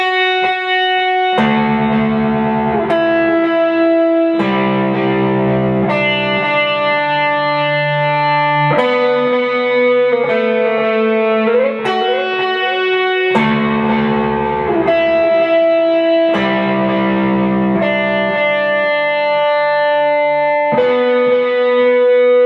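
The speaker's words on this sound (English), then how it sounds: "usually I use a dotted 8th note delay on it and some distortion" Distorted electric guitar plays a lead melody with a dotted-eighth-note delay, each note ringing into rhythmic echoes; the phrase is loud and continuous, with sustained harmonic tones and no voices.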